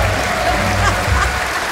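An audience at a Marillion fan gathering in the UK breaks into a short, loud burst of clapping that carries on evenly for a couple of seconds.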